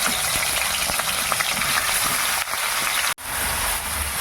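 Chicken pieces fry in hot refined oil in a wok (kadai), a loud continuous crackling sizzle with a brief dip and a sharp dropout near the end, close up and without speech.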